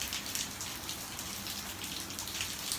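Rain falls steadily outside, an even, close hiss of drops pattering on surfaces, with no voices.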